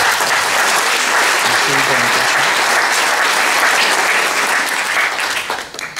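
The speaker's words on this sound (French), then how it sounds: "Là aussi, quelques applaudissements." Audience applause at a public forum on free access, sustained dense clapping from a large crowd with a faint voice underneath, holding steady before thinning slightly near the end.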